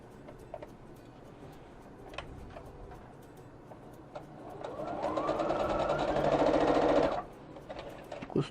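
A sewing machine stitches fabric patches together for a quilt blanket, its motor whirring up into a fast, steady run for about two seconds before stopping, with ticking and handling noises around it.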